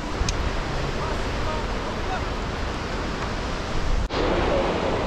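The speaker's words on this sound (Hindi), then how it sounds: "इतनी पानी की आवाज़ आ रही है इतनी जोर से" Loud, steady rushing water from the stream flowing out of Sheshnag lake on the trail from Pahalgam, a continuous close roar filling the whole clip with wind buffeting the microphone.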